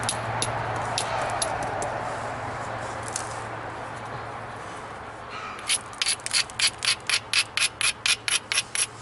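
A flint knapper grinds the platform edge of a flint piece, producing a continuous gritty rubbing that gives way to a quick run of sharp, rhythmic scraping strokes close to the ear.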